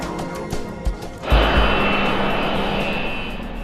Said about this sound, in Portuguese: O 727 agora está na cabeceira da pista, preparando-se para a decolagem